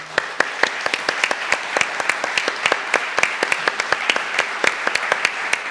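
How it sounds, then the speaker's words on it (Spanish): An audience at a talk on the Sahrawi cause gives a strong round of applause, crisp individual claps from a modest crowd ringing out steadily and fairly close for several seconds, with no voices over it. "Quiero mandarle, donde esté, un aplauso muy fuerte, ¿vale?"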